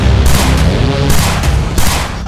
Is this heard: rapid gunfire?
yes